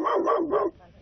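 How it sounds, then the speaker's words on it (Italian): Dogs at a farmhouse in Umbria barking, a few close, loud, tonal barks in quick succession that stop abruptly. "Al casale vengo accolto dai suoi cani che mi abbaiono con..."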